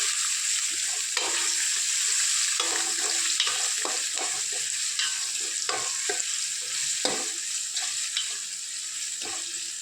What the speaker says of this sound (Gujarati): આપણે મરસાને લસણ નાખી દઈશું એને સરસ રીતે હલાવી લઈશું